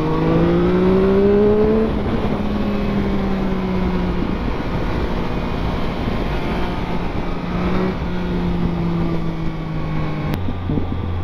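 A Triumph Speed Triple 1050 motorcycle engine drones while riding, its pitch climbing and settling through gear changes under steady wind rush, loud and close throughout.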